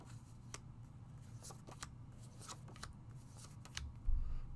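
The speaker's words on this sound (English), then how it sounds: "So let's take a look at this paper." Sheets of paper are handled close by in quiet, intermittent rustles and crisp flicks, scattered bursts over a low background, with a slightly louder crinkle near the end.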